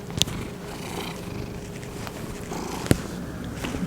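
A pet cat named Mister purrs close by in a soft, continuous rumble, with a faint tap or two and no talking over it.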